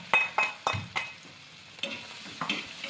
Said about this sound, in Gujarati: તેલ આવી ગયું તો જે ડુંગળી કાપેલી એને એડ કરી દઈશું